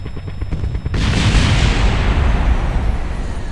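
Helicopter rotor chop in Kerbal Space Program abruptly gives way to a loud, rumbling crash and explosion that roars on for a few seconds.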